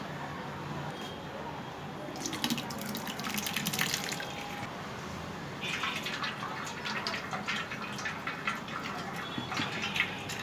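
Water pours and trickles steadily, splashing softly as it drains through cotton cloth while straining paneer made from milk powder, with a few louder gushes along the way.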